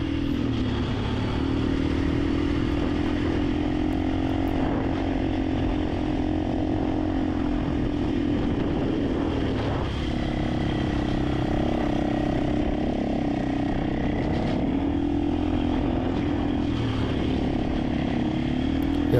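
A 450 motorcycle engine droning steadily while riding up a large sand dune at Merzouga, loud and close throughout with a continuous rough, buzzing tone and slight shifts in pitch.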